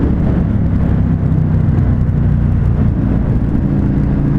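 An Indian FTR 1200 S motorcycle cruising in fifth gear gives a loud, steady engine drone mixed with wind rush, continuous and close, with no talk over it.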